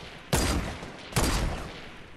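Two sharp, loud sniper rifle gunshots from Fortnite ring out about a second apart, each with a booming echoing tail.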